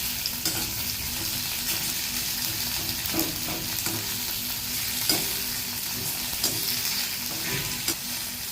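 Onions and small tomatoes sautéing in a pan for coconut milk rice, a steady close sizzle with scattered stirring scrapes and clinks throughout.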